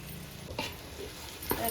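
Cooked beef for Kerala beef varattu is stirred in a pan, with a couple of soft scraping strokes over a low, steady sizzle, close by and brief.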